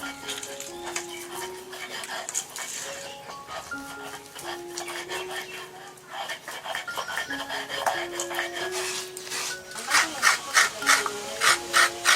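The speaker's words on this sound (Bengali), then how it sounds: "নারকেলটা কোরানো হয়ে গেছে" Fresh coconut being grated by hand in a kitchen: rough, rhythmic rasping strokes that grow louder and more regular toward the end, heard beneath steady background music.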